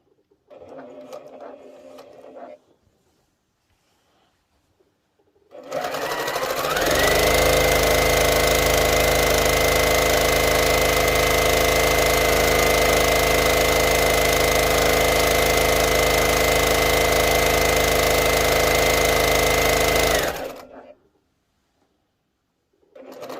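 A sewing machine running continuously at steady speed while quilting, a loud sustained mechanical whir lasting about fifteen seconds, starting and stopping cleanly, with brief quieter sounds before and after.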